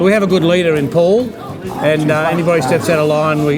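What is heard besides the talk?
No everyday noises stand out.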